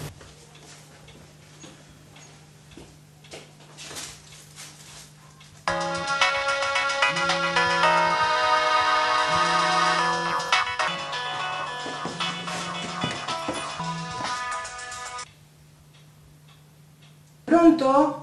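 A telephone rings indoors with a loud electronic ringtone that pulses in a steady repeating pattern for about ten seconds, after a quiet ticking stretch, then stops before a voice briefly cuts in.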